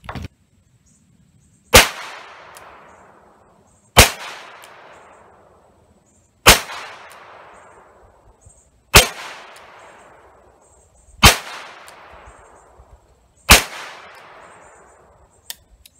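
A Smith & Wesson R8 .357 Magnum revolver fires .38 Special handloads, 158-grain bullets over CFE Pistol powder: six loud, sharp reports spaced about two seconds apart, each with a short ringing decay, with no talking.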